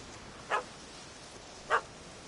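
Dog barking in the video game The Witcher 3, two clear single barks about a second apart, fairly close, over quiet ambient background.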